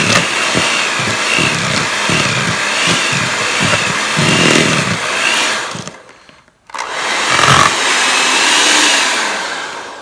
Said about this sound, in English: I'm just going to mix it up just a little bit more.